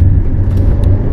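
Toyota bZ4X 2024 electric car accelerating hard on kickdown, a steady low rumble with faint whine from the cabin, continuous and fairly loud without speech.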